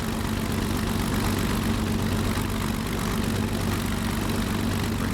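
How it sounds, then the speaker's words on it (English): A simulated Messerschmitt Bf 109G-6 with its Daimler-Benz DB605 engine idles after start-up, a steady, loud, deep drone with a dense low rumble that holds evenly throughout. "It's a nice loud engine, the DB605."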